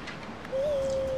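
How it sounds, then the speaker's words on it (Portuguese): In the game Far Cry Primal, a single sustained owl hoot rises clearly over quiet ambient background, steady and fairly close, starting midway and holding to the end. "Deixa eu usar a coruja."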